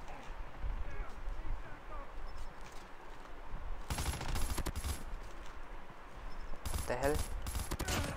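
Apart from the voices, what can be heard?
M16 gunfire in Call of Duty Mobile video game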